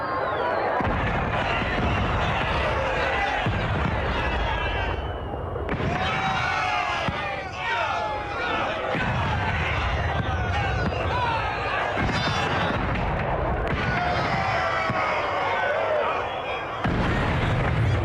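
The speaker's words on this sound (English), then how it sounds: "Perfect detonation is indicated by much larger explosion, larger detonation sound." Firework detonations in Dragon Age: Inquisition, a continuous barrage of loud crackling bursts and booms with short pauses between volleys, close and busy throughout.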